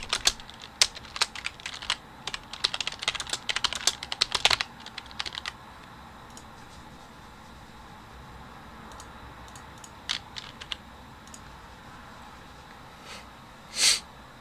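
Typing on a computer keyboard while writing C++ code: bursts of quick, close key clicks for about five seconds, a pause, then a few scattered taps and one louder keystroke near the end.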